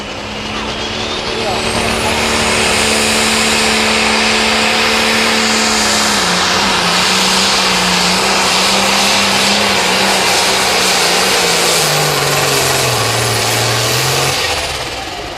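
Turbocharged 640 cubic inch engines on 9,500-pound limited pro stock pulling tractors roar loud and sustained at a track in Mound City, Missouri, with a high turbo whine whose pitch sags and rises over the run.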